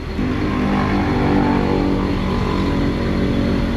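A car engine idles while it warms up in an auto shop after its cooling system was bled, giving a steady, even hum that is loud and close, with no rises in pitch and no voices.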